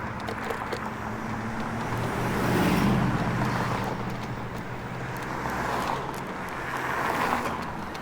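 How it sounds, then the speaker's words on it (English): Road traffic on Bloor Street in Toronto rushes past in swelling waves, two louder passes rising and fading over a steady roar, with wind noise and no talking. "I'm not gonna battle this traffic anymore"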